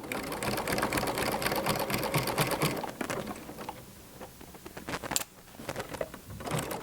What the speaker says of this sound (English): So lift my presser foot, pivot around, and continue stitching.